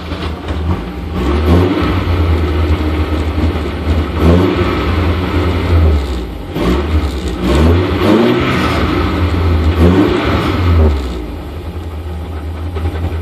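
Porsche 924 engine fitted with Megasquirt fuel injection and MSD ignition, running with a deep low rumble and a few rising revs and falls, loud and close throughout.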